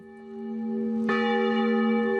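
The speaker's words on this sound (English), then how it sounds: "Bells ring out at the Chapel of Reconciliation in remembrance of another church of the same name which once stood on the site." Church bells ringing at the Chapel of Reconciliation in Berlin, a steady sustained bell tone that swells as a fresh strike lands midway, heard alone with no talking.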